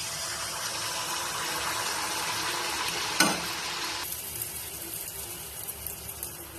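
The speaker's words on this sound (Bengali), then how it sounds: "তেলটা গরম হয়ে আসলে এক চামচ করে আমি ডো দিয়ে দিব তেলের মধ্যে" Spoonfuls of dough for paan pitha dropped into two cups of hot soybean oil in a karahi, giving a steady hiss and sizzle with a brief splash partway through before the frying quiets slightly.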